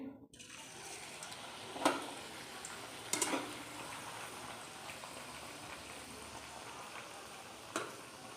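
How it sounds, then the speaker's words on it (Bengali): Kachori frying in hot oil in a home kitchen, a soft continuous sizzle at low level with a few sharp utensil clicks scattered through it. "একটা একটা করে কচুরি ভেজে নিই"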